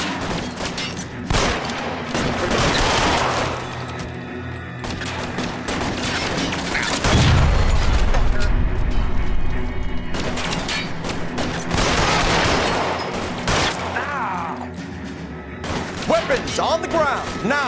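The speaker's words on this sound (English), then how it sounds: "dann ballern wir uns hier erstmal durch" Gunfire in the crime video game L.A. Noire erupts as repeated bursts of shots, loud and dense, with booming impacts and shouting voices mixed through the fight.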